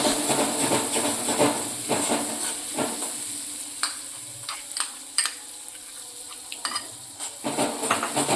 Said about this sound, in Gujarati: આ રીતે તરત જ હલાવતું જ રહેવાનું છે અને ગેસ એકદમ ધીમો કરી દેવાનો છે આપણે.